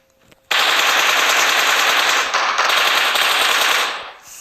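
Sustained automatic gunfire in the video game PUBG, a loud, dense burst of rapid shots that runs almost four seconds without a break and then trails off.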